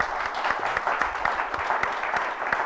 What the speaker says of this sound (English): So round of applause for the panelists.